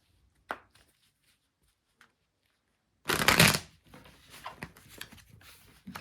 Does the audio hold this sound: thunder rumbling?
no